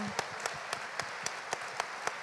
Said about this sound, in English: please give the panelists a very loud round of applause